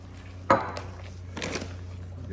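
Chopped pecans being stirred into pecan pie filling for a cast iron skillet cobbler, a sharp knock of spoon on bowl followed by soft scraping and mixing sounds, fairly quiet with a low background hum.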